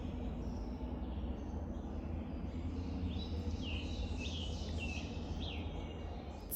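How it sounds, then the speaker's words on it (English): Birds chirping and calling in the morning over a steady low hum of background noise, with bright bursts of song coming and going at a moderate distance. "sit out and listen to the birds"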